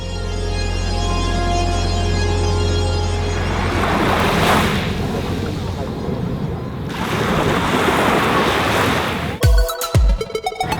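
Sea waves washing over a glistening beach just after low tide, a steady wash of surf and wind that swells twice, with a sharp close knock near the end.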